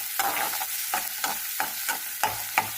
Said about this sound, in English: So we have to fry this onion until it becomes light brown in color.